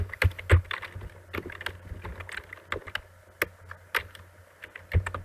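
Keys clatter on a computer keyboard in irregular bursts of close, crisp clicks, ending in a Ctrl+Enter combination, with no talking over the typing.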